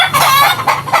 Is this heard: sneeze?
no